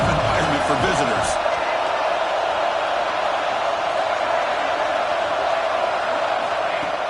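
A college football crowd in a tough road environment makes a constant, dense roar of massed voices, loud and unbroken throughout, with a brief burst of sharper cheering near the start.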